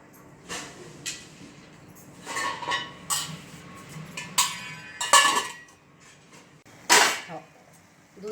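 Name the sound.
lid put on a pot of simmering milk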